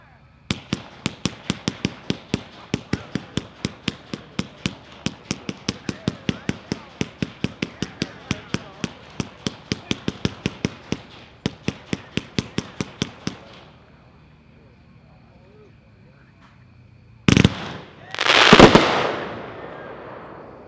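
A Pyroland Heavenly Star fireworks cake fires its 59 shots as a rapid, even string of sharp booms for about thirteen seconds, heard at a distance, then a couple of louder bursts follow after a pause.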